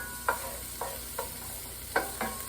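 Onions sizzling with guanciale in a pan, a quiet steady fry punctuated by about five soft stirring scrapes spaced irregularly.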